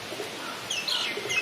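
Pigeons nesting around an old well on the Jaffna Peninsula chirp and call softly in bursts over a steady outdoor wash, with brief high tweets growing a little busier toward the end.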